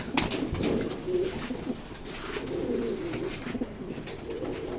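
Racing pigeons coo in a loft, soft rolling murmurs repeating and overlapping close by with no one speaking.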